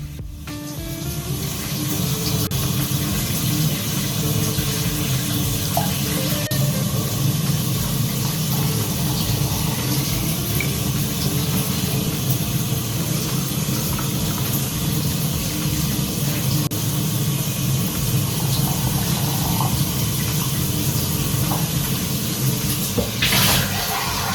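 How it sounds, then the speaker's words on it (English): Cold water pours steadily from a tap into jars of sour cherries, a continuous rushing splash that holds at an even level throughout. "In the end, we fill everything with cold water to the very top."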